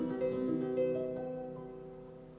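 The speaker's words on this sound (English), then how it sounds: "And the even softer effect sounds like this" Fortepiano with its even softer moderator stop engaged, giving a faint, harp-like tone; a short run of quiet plucked-sounding notes rings and decays, heard alone.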